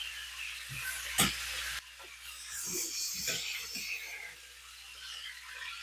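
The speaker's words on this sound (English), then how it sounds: "We want it hot. We want a good sizzle." Lamb kidneys sizzle steadily in a hot pan, a soft continuous hiss with a sharp clatter near the start and faint shuffling noises.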